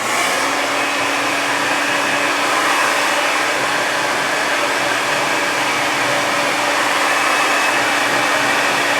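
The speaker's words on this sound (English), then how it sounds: "just hold the blow dryer out without using the brush and just try to get all of the back that way" A hair blow dryer blows steadily, held out at the back of the head without a brush, a loud unbroken close-up rushing hiss with a constant motor tone.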